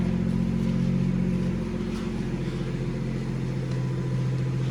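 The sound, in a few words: BMW M240i engine running in sport mode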